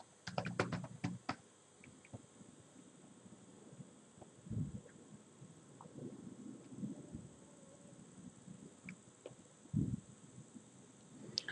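Someone typing a search on a computer keyboard, quiet clustered key clicks in short bursts with pauses between, faint and close against a soft background hiss.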